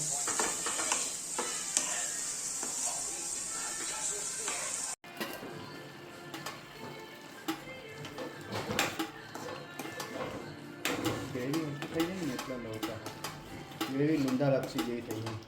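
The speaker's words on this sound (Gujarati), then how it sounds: "તો ચિરાગ બનાવી રહ્યો પનીર." Paneer butter masala cooking in a pan: oil sizzles continuously while a spoon stirs and scrapes the pan, with a few metallic clinks. People talk over the cooking at times.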